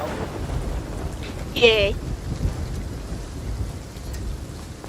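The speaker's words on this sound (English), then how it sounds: "The rain should be letting up soon, it sounds like" Steady rain and storm ambience in the pirate game Sea of Thieves, a constant low rumble and patter throughout, while a player's voice briefly cheers over it.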